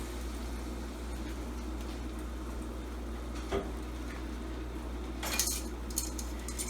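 Heavy whipping cream stirred into spinach in a pan, a faint scrape and clink of a utensil against metal over a low background hum, with a brief clatter near the end.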